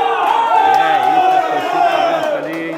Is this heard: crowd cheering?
yes